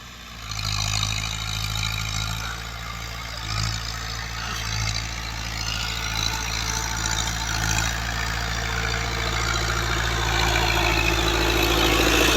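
A Fiat 640 tractor engine runs while ploughing a field in Pakistan, a steady low diesel drone that carries on evenly throughout, fairly close and slowly swelling louder toward the end.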